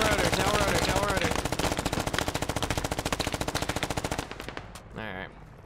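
A helicopter door gunner in the Squad military shooter fires a machine gun in a long, rapid, steady burst lasting about four seconds. It stops abruptly, followed by a brief muffled voice and softer noise.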